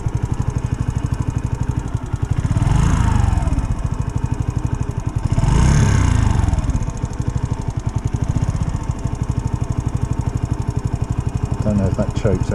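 A Sinnis motorcycle engine runs with a rapid, loud, close pulsing beat and rises in revs twice, and a person talks over it.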